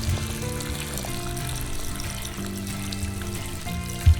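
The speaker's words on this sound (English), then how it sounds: "I'm just pouring out water into the stones." Water is poured out onto stones in a front-porch flowerbed beside a decorative pump, making a steady splashing trickle with a slightly ringing tone and a soft thump at the end.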